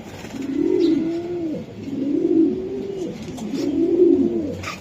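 Racing pigeons coo in three repeated low, rolling phrases, close and steady, with no talk over them.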